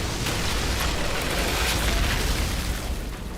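A Fire Witch's Eruption skill in Outriders sets off a dense, roaring blast that rumbles continuously for a few seconds, loud and close, with crackling bursts throughout and no talk.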